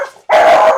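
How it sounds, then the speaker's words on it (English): A dog nearby gives one loud, sharp bark that cuts in suddenly after a faint moment of quiet. "Sorry, that was a dog"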